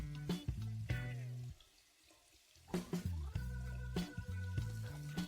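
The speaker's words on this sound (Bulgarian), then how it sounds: "Изплъкнете го под подобен ъгъл като мен и насочете водата с пръстите си." Tap water runs over a Dyson HEPA filter as it is rinsed, with fingers directing the stream. Splashing bursts play close up, with a quiet gap partway through before the water resumes.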